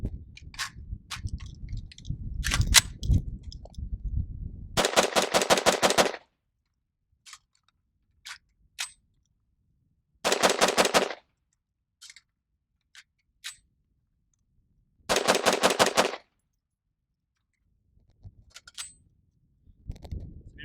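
An AR-15 rifle with a nickel boron coated bolt carrier group firing Tula steel case ammunition at an outdoor range, in three rapid strings of many shots, with scattered single clicks and handling noise between them.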